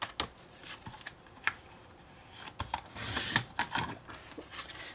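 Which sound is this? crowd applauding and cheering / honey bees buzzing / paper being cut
paper being cut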